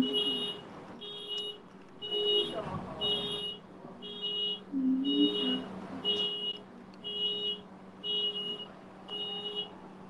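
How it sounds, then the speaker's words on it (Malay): A car alarm sounds at a distance in repeated regular beeping bursts, roughly one per second, with faint voices talking underneath. "Asal alarm kereta kau berbunyi."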